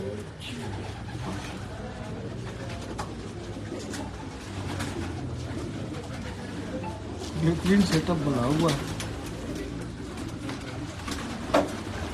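Kamangar pigeons coo softly in low, repeated murmurs inside a loft after rain, with someone talking over them throughout and a few sharper flutters and calls near the end.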